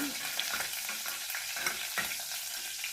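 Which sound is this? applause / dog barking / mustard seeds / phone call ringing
mustard seeds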